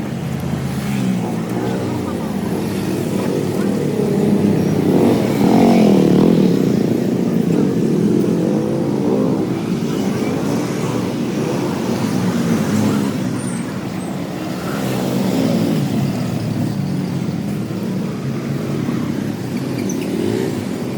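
A rented motorbike rides through traffic in Bali, its engine drone steady and close with surrounding vehicles blending in, while people talk over it.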